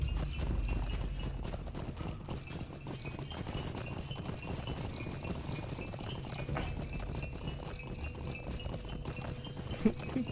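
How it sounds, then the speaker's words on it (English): Steady clip-clop of horse hooves at a brisk pace with a dense jingling of bells above, continuous and fairly loud, with no talking, in The Lord of the Rings Online. "The horse with the bells."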